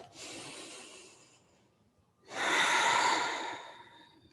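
Two deep breaths during a yoga class: a soft, airy inhale fading out, a pause, then a louder, fuller exhale close to the microphone, with no talking over them.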